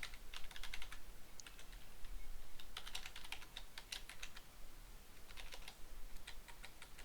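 Keys clatter on a computer keyboard as an email address is typed, quick bursts of close, crisp clicks separated by short pauses, with no talk over them.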